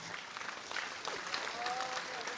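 Audience clapping at a Hindi religious discourse, a steady wash of scattered hand claps lasting the whole moment.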